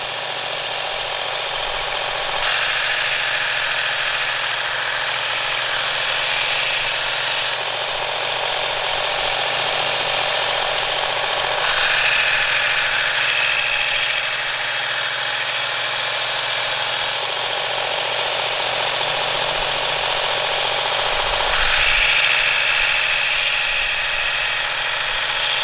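Work Sharp Ken Onion Edition Elite MK.2 electric knife sharpener running with its trigger locked on, a steady whirring motor hum with a gritty belt rasp that swells and eases as blades are passed across it.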